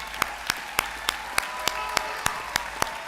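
Commencement audience at the CTState Middlesex graduation gives sparse, steady applause, about ten distinct claps spaced evenly over a soft crowd bed, heard from a short distance.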